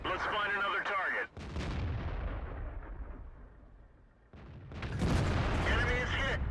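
Tank cannon blasts and shell impacts in World of Tanks, two loud booming shots with long rumbling decay between them, close and heavy, with a voice speaking over the action.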